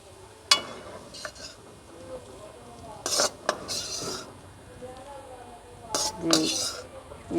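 An egg and green pea omelette being lifted out of a pan onto a dish, a few scattered scrapes and metallic clinks of a spatula against cookware, close but quiet, with no talking.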